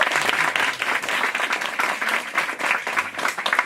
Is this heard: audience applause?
yes